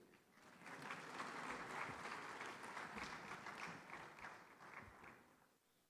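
Audience applause fills a conference hall at an Afreximbank annual meeting in Accra, a dense, steady wash of many hands clapping that swells early and slowly tapers off toward the end.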